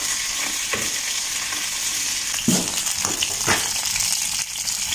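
Lard and meat fry in a pan with a steady, bright sizzle, broken by a few scraping stirs, heard up close with no talking.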